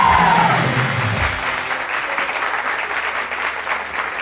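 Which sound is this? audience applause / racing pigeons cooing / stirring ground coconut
audience applause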